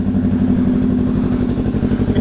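A Yamaha MT-03 motorcycle fitted with a new straight-through exhaust idles loud and close, a steady throbbing low engine note with a rough, pulsing rumble and no talk.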